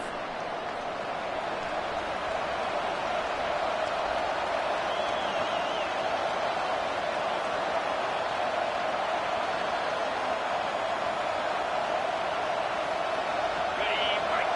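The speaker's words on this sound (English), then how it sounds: "here comes the noise. This crowd is trying to inspire this defense to make a big red zone stop." Stadium crowd at a college football game late in the fourth quarter, roaring steadily at a red zone defensive stand, a dense continuous wall of distant cheering with no clear speech.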